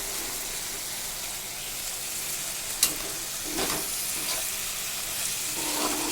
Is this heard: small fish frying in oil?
yes